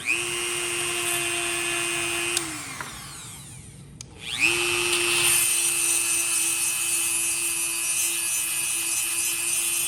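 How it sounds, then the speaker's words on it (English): A grinder sharpens the teeth of a demolition chainsaw chain, giving a loud steady whine with harsh grinding noise, briefly pausing midway and then spinning back up to a continuous grind. "I'm going to put some cool grind, just a little sharpening compound on there."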